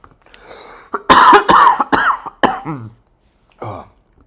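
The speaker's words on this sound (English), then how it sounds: "cough is getting worse" A man coughs hard several times in quick succession, close and loud, with rough hacking bursts and a final smaller cough after a short pause, heard on its own without speech.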